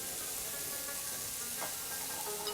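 Steady sizzling and frying of minced meat in a hot pan as tomato juice goes in, a continuous close hiss with a brief stir sound midway.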